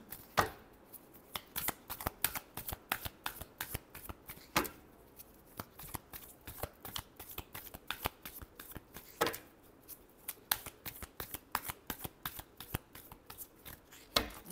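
Tarot cards are shuffled by hand in a long, steady series of crisp riffling slaps and flutters, close and alone, with no talk over them.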